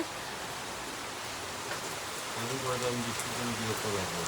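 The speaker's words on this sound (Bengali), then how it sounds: "বৃষ্টি তো মুসুলধারে পড়েই আছে পড়েই আছে" Heavy monsoon rain pours down steadily in a dense, hissing wash near a kitchen, with a voice briefly humming or speaking faintly under it toward the end.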